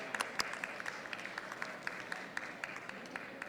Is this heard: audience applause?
yes